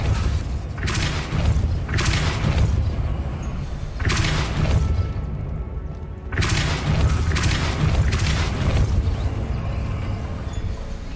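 A Depulso spell blast in the video game Hogwarts Legacy lands as a series of heavy, booming thuds, four or five loud rumbling impacts spaced about two seconds apart, with a short lull before the last ones.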